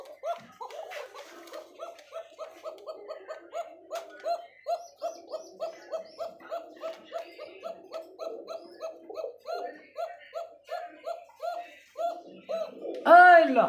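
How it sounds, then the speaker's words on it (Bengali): Pigeons, a male and a female, calling in the same way: a steady run of close, repeated coos with a brief louder burst at the end. "মাদি ডাকে নর ডাকে দুইটাই সেম ভাবে ডাকে"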